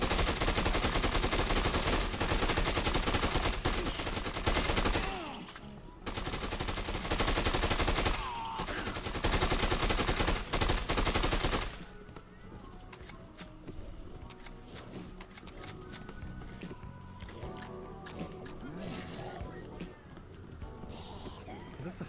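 Rapid bursts of gunfire from the Dead Rising 2: Off The Record video game, loud and dense for the first dozen seconds, then thinning into scattered shots and game clatter, with voices talking over it.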